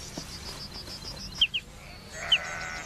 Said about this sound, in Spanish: el mejor método para conservar los campos abiertos es el uso de ovejas